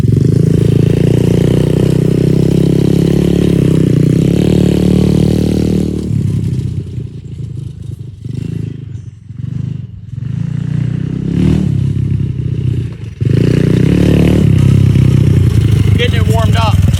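A dirt bike engine warming up idles loud and close with a steady throb, dips quieter in the middle with some clatter and scraping, then returns to a full running drone.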